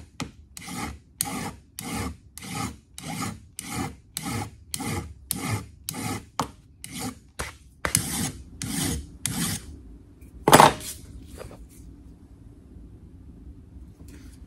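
Hand file rasping across a damascus steel gun part in steady back-and-forth strokes, about a dozen even scrapes close up, followed by a sharp clank and then quiet.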